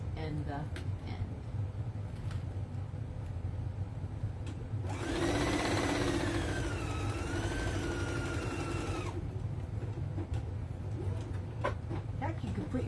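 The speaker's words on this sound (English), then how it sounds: "Make sure you back stitch on the front and the end." A sewing machine stitching a dog carrying sling runs in one steady, close whirring burst of about four seconds, with a low hum and indistinct chatter before and after it.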